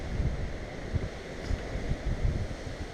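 Strong wind blasts across an exposed Pacific Crest Trail section, roaring steadily and loudly in gusting surges that buffet the microphone, with no voices.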